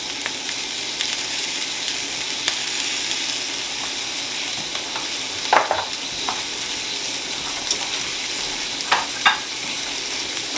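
Chicken seasoned with salt and black pepper is stirred in a sizzling pan with a rubber heat spatula, giving a steady frying hiss with a few soft scrapes and louder stirring pushes near the middle and end.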